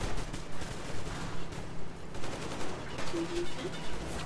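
Steady automatic gunfire rings out in the post-apocalyptic shooter Metro Exodus, with rapid, evenly spaced shots punching through a dense background of battle noise.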